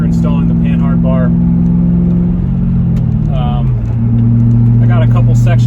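A car drives out after a Panhard bar install, its engine humming steadily close by and shifting pitch as it changes gear, while someone talks over it.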